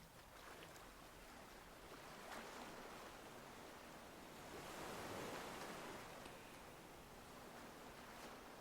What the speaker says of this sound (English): you hear the soft sound of lapping water